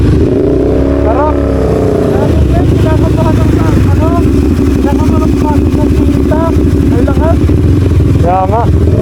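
A big-bike motorcycle engine roars loudly and continuously at close range, revving hard throughout, while people talk and exclaim over the noise.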